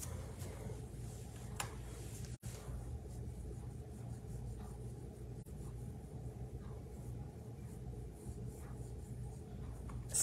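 A pastel stick rubs softly and continuously on paper while drawing eyes, faint scratchy strokes over a low room rumble, with a couple of sharp taps.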